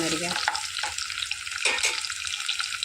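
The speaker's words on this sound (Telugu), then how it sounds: "తాలింపు పెట్టేసుకోవాలి" Black pepper and fennel seeds crackle and sizzle as they hit hot oil for tempering, a dense continuous frying hiss with small pops and stirring scrapes, close and steady, no talking.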